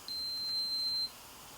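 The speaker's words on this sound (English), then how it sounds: "So press that and hold it down until it beeps." Tube feeding pump beeping after its fill set button is pressed and held: one steady high electronic tone held for about a second, clear and close, then stopping.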